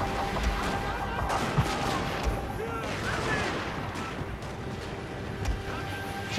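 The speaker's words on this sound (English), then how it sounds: "these Matchlock Kachi are just trying to get shots on me" Matchlock gunfire in the Shogun 2 strategy game crackles in scattered, overlapping shots and volleys, fairly faint and distant, as a battle rages.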